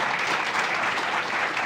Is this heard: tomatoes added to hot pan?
no